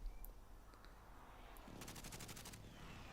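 Automatic gunfire from an M13 rifle in the Warzone video game: a quick burst of rapid, evenly spaced shots over faint background ambience, with a few isolated shots before it.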